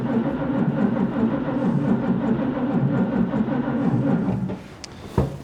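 A 1941 Chevrolet engine cold starting on a Carter W-1 carburetor on a chilly day, a loud steady rumbling crank and run that continues for several seconds, then cuts off abruptly with a final clunk, no talking.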